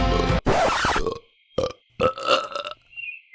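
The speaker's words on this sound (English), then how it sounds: "And Amy burped a lot too." A cartoon character, Amy from the Adventure Era Sonic baby saga, lets out a long, loud burp, then a few shorter, quieter burps in quick succession.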